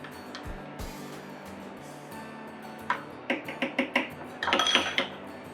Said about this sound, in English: Just gonna kind of just give it a little bit of a stir